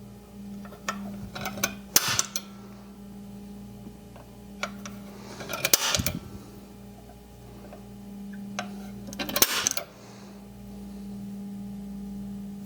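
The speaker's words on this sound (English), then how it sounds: "So with those marked, I can now punch those holes." Holes are punched by hand to mark bolt sizes, giving three sharp metallic strikes spaced a few seconds apart with a few lighter taps between them over a low steady hum, close and alone.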